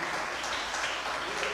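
A congregation at a garage church service applauds in a continuous, even patter of many hands clapping together, filling the whole moment without pause.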